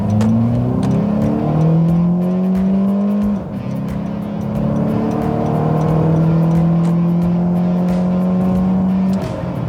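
A 2014 Honda Accord 2.4 Tech revs up hard from a standstill, pitch climbing through gears with brief dips at each shift, the roar close and sustained throughout.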